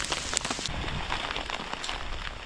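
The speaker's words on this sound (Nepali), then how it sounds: "असिना पानी परिरहेछ" Hail and rain falling steadily in a high mountain forest in Nepal during a thunderstorm, a dense continuous patter with scattered sharper ice hits throughout, close and fairly loud, with no voices.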